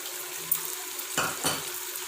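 Yogurt poured into mutton karahi over high heat, hissing and sizzling in a quiet, steady wash, with two short louder bursts of spattering and stirring near the end.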